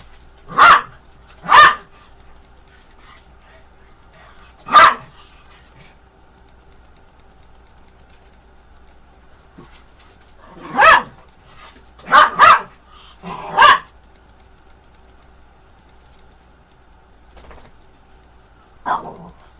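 Several dogs bark in short, sharp bursts: a pair of quick barks, a lone bark, then a tight cluster of three and a final distant yap. Quiet pauses fall between the bursts, and no one speaks.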